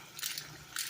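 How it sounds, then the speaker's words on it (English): A hand-turned pepper grinder cracking peppercorns over a shrimp arrabbiata sauce, two short crunchy grinding bursts close by with a brief pause between them. "you'll want to grind some pepper into it"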